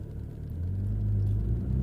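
A car engine rumbles low and steady as the gas is pressed, the drone building slightly in loudness and holding near and continuous over a short stretch, with no talking.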